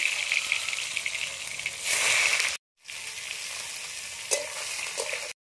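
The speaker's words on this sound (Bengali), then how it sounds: "আরও কড়াই তেল দিয়ে দেবো," Steady sizzle of potatoes frying in hot oil in a kadai, loud and continuous, with a brief stir and a pause of silence partway through.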